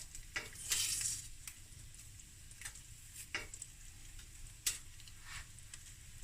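Curry leaves, about a quarter cup with chilies nearby, sizzling and spitting in hot oil in a big pot, a bright crackling burst early on and then scattered pops over a steady low simmer.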